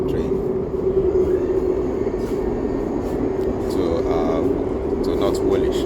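An Elizabeth line train runs through the Connaught Tunnel, giving a steady loud rumble and droning hum inside the carriage, with faint chimes and a voice speaking over it.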